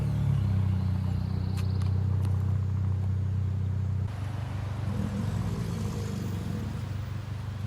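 A car engine drones loudly with a steady low rumble, then drops to a rougher, quieter idle partway through.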